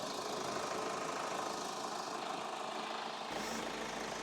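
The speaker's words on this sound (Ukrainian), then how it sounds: "Моторчик працює чітко, рівненько." A 2.2 diesel engine of a Kia Sorento AWD automatic idling with the bonnet open, a steady close mechanical hum and rattle that holds evenly throughout.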